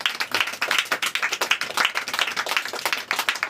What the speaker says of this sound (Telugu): అందరూ క్లాప్స్ కొట్టండి